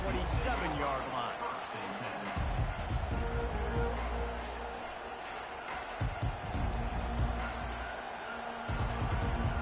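A stadium crowd at a college football game roars with sustained cheering that swells and dips throughout, while a commentator talks over the noise.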